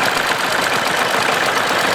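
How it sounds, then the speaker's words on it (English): A 1950 MAN four-wheel-drive German diesel tractor idles at a steam rally, with a steady rough low rumble and mechanical clatter and no voices over it. "now another German tractor."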